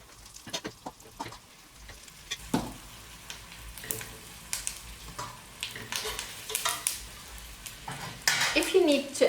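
Pieces of oxtail dropped into a pot of hot oil, with soft clatters of tongs against metal and a faint sizzle building toward the end, close and moderately quiet.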